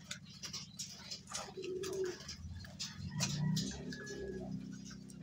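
Pet pigeons coo in low, repeated throaty rolls, close by and steady, with light pattering and shuffling from the birds in their new rooms.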